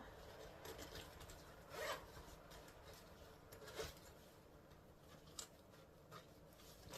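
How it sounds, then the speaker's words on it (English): A zipper rasps open in a few short pulls, quiet and close, with faint background hiss between the strokes. "Open the zipper."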